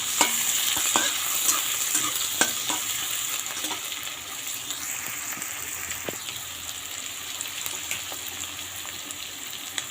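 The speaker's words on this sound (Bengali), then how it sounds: "একটু পেঁয়াজটা বেশি হয়েছে, বেশি করে দিয়েই ভাজবো পটলটা।" Pointed gourd (potol) fries with plenty of onion in a pan, giving a steady close sizzle and crackle with occasional stirring scrapes and taps throughout, no talking.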